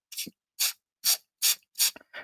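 Five quick hand-pump sprays of water mist onto watercolour markers, evenly spaced and close, each a short hissy burst with a faint click at the end, separated by silence.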